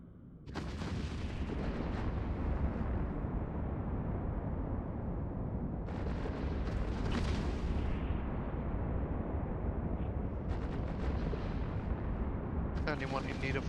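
Ships open fire in a large Eve Online fleet battle, a dense continuous roar of weapons and booming explosions with repeated bright crackling bursts, loud and sustained throughout, with voices underneath.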